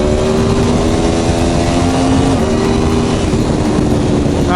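A fast motorcycle accelerating, its engine a loud, steady droning roar held close for several seconds with a sustained pitch that rises slightly near the end.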